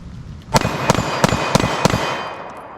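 Staccato HD pistol firing five sharp shots in steady succession, loud and close, each crack ringing out over a reverberant background with no talking.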